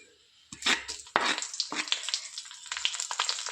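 Chana dal frying in a hot pan with oil, a close, steady crackling sizzle that swells after a quiet start, with a few bursts of stirring or clinking over it and no talk.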